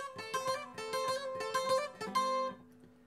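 Requinto guitar playing a fast hammer-on and pull-off lick, a quick run of bright plucked notes closely miked, ending on a ringing held note that fades out alone.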